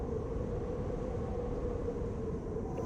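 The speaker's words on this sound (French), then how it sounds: "Là, c'est un son blizzard un peu qui fait wouh." A blizzard whoosh sound effect: a steady, low, rushing wind roar that holds at an even level throughout, dense and continuous with no distinct events.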